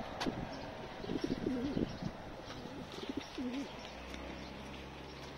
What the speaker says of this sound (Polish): Gołąbki siedzą w krateczkach.